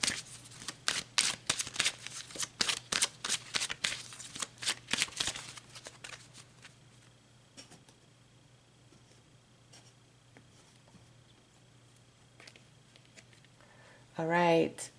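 Tarot cards are shuffled in quick, crisp riffling bursts up close, then a quieter stretch follows, and a voice briefly speaks at the very end.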